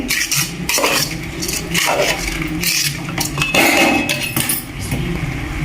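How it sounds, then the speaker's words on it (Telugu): Rice being mixed with onion and tomato in a metal pot for bagara rice, with a steady, loud scraping and clinking of a spoon against the pot, uninterrupted and close. "రైస్ను బాగా కలుపుకోవాలి అన్నీ మిక్స్ అయ్యేలాగా ఇలా ఉల్లిగడ్డ టమాటా ఈ రైస్కి పట్టేలాగా బాగా కలుపుకోవాలి"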